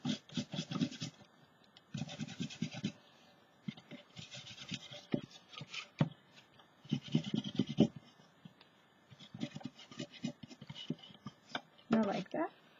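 Paint is rubbed off a mixed media topiary tree in short scratchy strokes. The dry rasping comes in bursts with gaps between them, and a soft voice murmurs faintly underneath.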